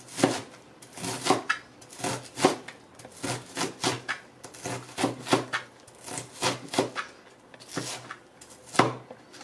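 A knife chops onion on a cutting board in quick, irregular bursts of sharp, close knocks, roughly two or three strikes per second with short pauses, and no talk over them.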